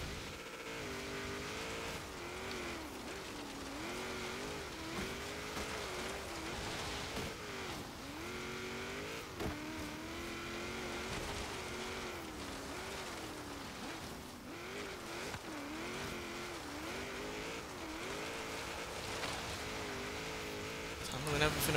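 A V8-swapped 1997 Nissan Skyline GT-R V-Spec driven off-road in Forza Horizon 3, its engine rising and falling in pitch as it revs and shifts, with some tire scrabbling. Someone talks over it throughout.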